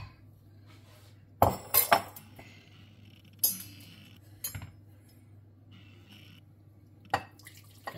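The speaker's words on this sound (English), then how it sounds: "Get us a bowl, we'll put this grease in it." Grease is poured from a pan into a bowl: several sharp metallic and glassy clinks stand out as the pan knocks the bowl, with soft drips between them against a quiet room.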